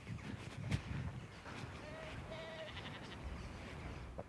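Sheep bleating in the Yorkshire countryside, faint distant bleats over wind noise and a voice.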